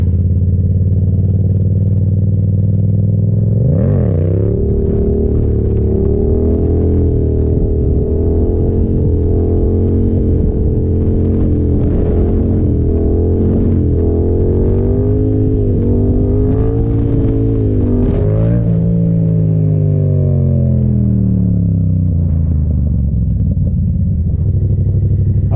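Yamaha FZ-07 motorcycle engine heard while riding, a loud continuous mid-pitched drone with rising and falling revs, wind buffeting over it, and a gear change partway through before the engine note drops away.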